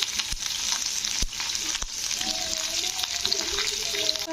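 Okra frying in a pan, a steady broadband sizzle with a few sharp clinks of a spatula against the pan and a faint trace of running water.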